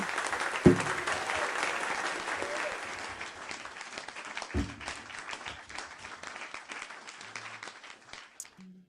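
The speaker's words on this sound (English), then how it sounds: "Thank you for those claps." An audience claps during a live music stream, starting loud and dense and then gradually thinning and fading out.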